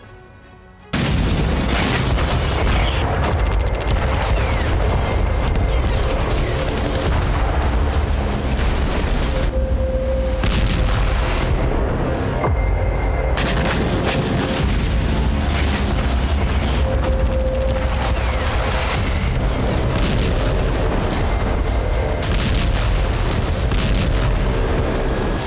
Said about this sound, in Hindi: धमाकों से कांपती जमीन का वो हिस्सा जहां हर कदम पर मौत का खतरा है।